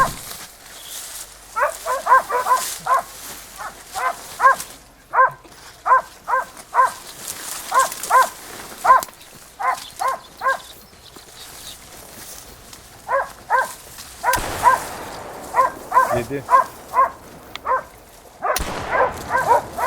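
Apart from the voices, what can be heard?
hunting dogs barking, from video game theHunter Call of the Wild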